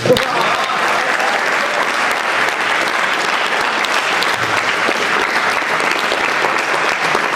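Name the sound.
audience applause at a Hindi poetry gathering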